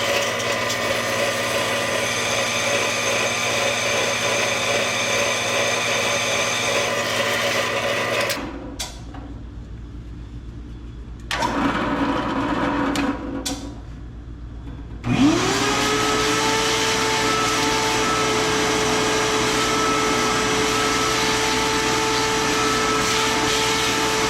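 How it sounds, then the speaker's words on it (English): A power drill whines steadily as its bit bores into a MOPAR metal flywheel, stopping briefly twice before spinning up again with a loud, continuous mechanical drone. "I think this should be my final pass with this drill bit"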